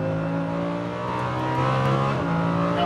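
A Lamborghini Huracan V10 accelerates hard around the Las Vegas Motor Speedway track, heard from inside the car: a loud, steady engine howl with rising harmonics as it pulls under full throttle, continuous for the whole stretch with no talk.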